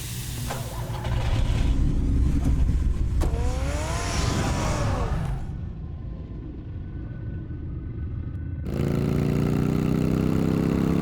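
Batman's car in Batman: The Telltale Series gives a loud, steady engine roar with revving surges, dropping to a quieter hum before the roar returns strongly near the end.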